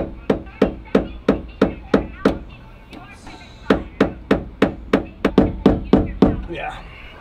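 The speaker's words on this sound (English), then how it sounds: "I have to tap it in from the other side." Sharp metallic hammer taps on a Ferrari 360 fuel pump part, about eighteen evenly spaced close knocks in two runs separated by a short pause, with a quick faster burst near the end.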